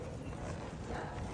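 Hooves of a horse being ridden during a riding lesson, a steady clip-clop beating close by and continuously through the whole stretch, with no voices over it.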